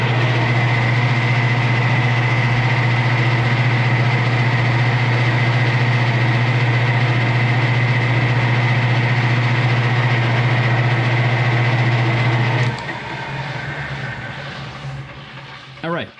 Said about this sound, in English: There's the finish cut on auto feed, going really slow to get the nicest possible finish.